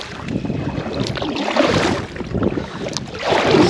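Strong wind buffets a microphone while kayaking into a headwind on open water, with a continuous rough, gusty rush that swells and dips, loud and close, and no talking.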